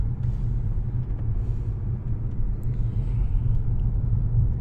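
Interior of a Lexus GS250 riding along a rough road, a steady low rumble of tyres and road noise with faint engine hum and occasional light bumps, no talking.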